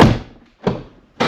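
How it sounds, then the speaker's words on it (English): A Dodge Ram pickup's front door is shut with a solid, close thunk, followed by two more sharp door-like impacts separated by brief silences. "So I'm just going to shut the front door"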